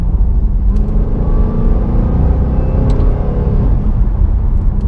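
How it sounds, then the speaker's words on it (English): Inside a Cadillac CTS-V, the supercharged V8 pulls hard in third gear, a loud, dense low rumble with rising engine tone and whir filling the cabin continuously. "No lag with a supercharger. It just feels like a naturally aspirated V8."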